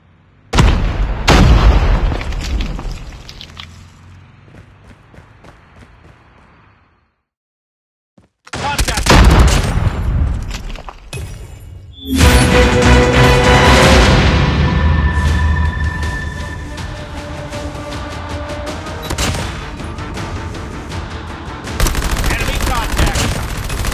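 Grenade blast followed by heavy gunfire in a Call of Duty battle, a loud boom breaking a brief silence, then sustained rapid shooting and explosions with faint voices mixed in.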